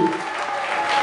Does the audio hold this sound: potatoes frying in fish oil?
no